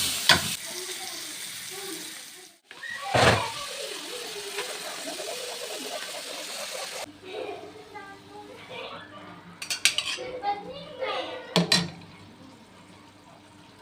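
Onion sautéing in a pan, a soft sizzle with stirring and scraping, a few sharp clinks of utensils against the pan, and brief pauses, close by and at moderate volume.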